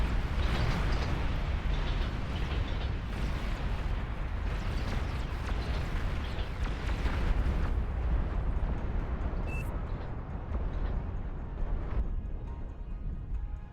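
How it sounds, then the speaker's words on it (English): A mass of ICBMs launching and detonating in a Beyond All Reason RTS battle, making a dense, continuous roar of overlapping explosions and rumbling blasts that stays loud throughout. "That's 33 ICBMs."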